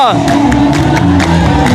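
Rhythmic clapping at an Ethiopian Orthodox Meskel celebration, steady hand claps under a loud crowd singing and cheering.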